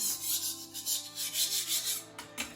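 A knife blade is rubbed back and forth on a gritty sharpening stone, making close, steady rasping strokes with a brief scrape near the end and no talk.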